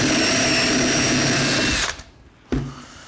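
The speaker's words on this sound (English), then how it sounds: "I just need to increase it by one notch on this stepper bit." Step drill bit in a power drill boring a hole through a DIY portable oil tank, a loud steady whine for about two seconds, then a brief pause and a short final burst.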